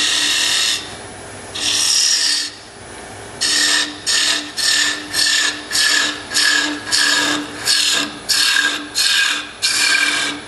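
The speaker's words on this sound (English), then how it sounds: "Notice I'm going that way, I'm using this side of the gouge, and when I come back this way, I use the other side." A wood-turning gouge cuts into spinning wood on a lathe in repeated rhythmic passes, each a loud rasping hiss lasting about half a second, a dozen strokes in quick succession with no talk.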